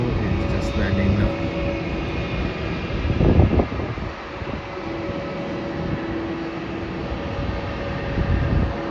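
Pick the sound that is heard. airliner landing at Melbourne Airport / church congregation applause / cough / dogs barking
airliner landing at Melbourne Airport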